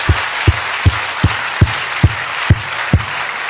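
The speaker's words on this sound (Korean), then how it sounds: "여러분 이 청년들의 이 아름다운 성전에 계속되는 진행을 위해서 박수 쳐주십시오." A church congregation claps in unison, firm claps in a steady rhythm about twice per second over a constant background hiss in a large room.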